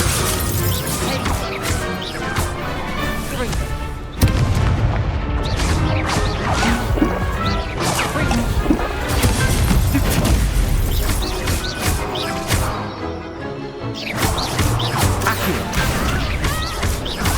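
Spell combat in the video game Hogwarts Legacy erupts in a dense barrage of loud crashes, thwacks, whooshes and shattering impacts, nearly continuous throughout with brief lulls.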